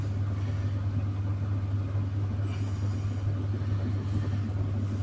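A pottery wheel spinning at its slowest speed while a big bowl is thrown, a constant low motor hum and rumble with no breaks, close and steady, with no talk.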